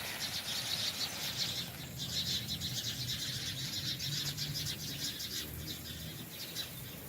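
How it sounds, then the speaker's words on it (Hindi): Birds chirp in a garden with a lawn and plants, a dense continuous twittering carried over a steady broadband hiss, moderately distant and fairly faint. "और चिड़ियों की आवाज़ें भी आप सुनिए ज़रा।"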